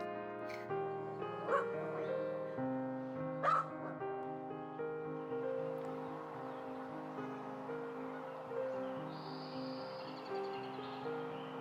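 Several pet dogs barking and yipping outdoors, a few sharp close barks early on followed by quieter whimpers and yips, with faint car noise in the background.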